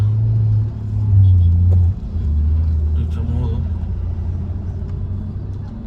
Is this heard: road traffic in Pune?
yes